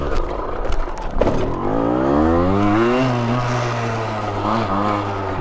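A Gilera SMT 50 50cc supermoto engine revs hard through a wheelie, its pitch climbing steadily in a sustained, loud, close whine before settling into a steady high drone.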